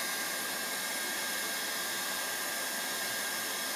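A heat gun set to 7 blows hot air onto a PVC pressure pipe fitting to unglue it, giving a loud, constant close-up hiss-roar with no change throughout.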